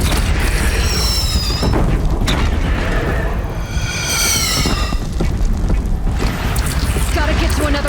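Cannon firing during a battle in the video game Horizon Zero Dawn: deep booming blasts roll out amid continuous loud combat noise, with whining, whistling tones rising and falling over the din.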